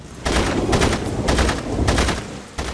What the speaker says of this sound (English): Oh, wait, I was shooting him.